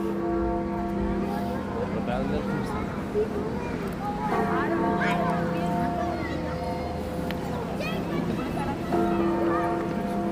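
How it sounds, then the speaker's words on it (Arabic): Church bells ringing among historic buildings in Valencia, Spain, with sustained tolling tones heard amid street ambience while someone speaks over them. "اجراس ديال الكنيسه."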